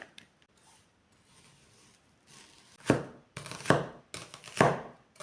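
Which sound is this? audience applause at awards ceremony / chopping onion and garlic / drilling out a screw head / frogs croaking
chopping onion and garlic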